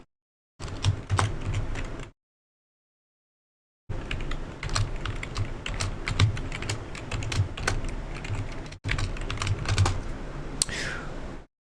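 An administrator password is typed on a computer keyboard in two bursts of quick, close key clicks separated by a short pause, with steady rhythm and no talk over them.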